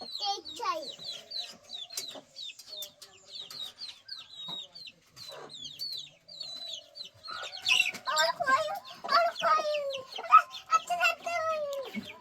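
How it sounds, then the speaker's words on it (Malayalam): Chickens clucking in a morning yard, a string of short high clucks and calls that grows louder and busier partway through, with a voice chattering alongside. "വാ കോഴിയെ ഒന്ന് വാ കോഴിയെ"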